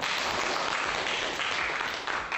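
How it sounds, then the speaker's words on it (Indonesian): A school classroom group breaks into steady, dense applause, many hands clapping together loudly and continuously throughout. "tepuk tangan"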